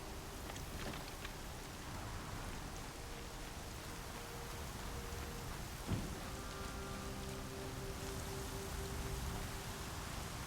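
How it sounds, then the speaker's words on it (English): Steady heavy rain in the video game Horizon Zero Dawn pours down without a break, with a single soft thud partway through and faint tonal hums underneath. "Rain's too loud to hear much."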